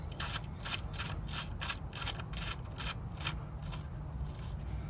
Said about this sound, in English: And you can hear the noise of the dirt as I'm winding it in.